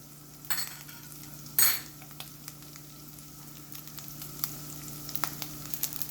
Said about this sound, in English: now we're going to drop this rice in the pan